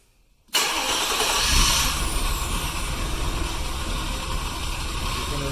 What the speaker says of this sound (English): Now I'm gonna crank the engine